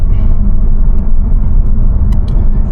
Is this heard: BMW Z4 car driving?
yes